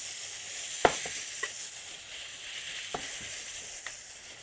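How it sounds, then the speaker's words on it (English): Hot oil sizzles steadily in a pan of king trumpet mushrooms, a constant crackling hiss broken by a few sharp pops and light clicks. "Oh, you can hear that sizzle."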